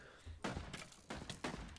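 Gunfire in the video game PAYDAY: several loud, broadband burst clusters of shots in quick succession over about two seconds, close and dominant.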